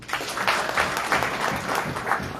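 Audience applause at an event rises in a few rhythmic surges of clapping, loud and close, over a couple of seconds with no talking.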